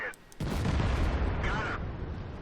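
Tank gun firing in the Combat Mission video game, a single loud close blast with a deep rolling boom that fades slowly, with a brief voice at the start.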